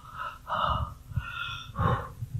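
Deep breathing shown after stretching during a health lecture: a few slow, audible inhales and exhales, close and fairly loud, with no speech.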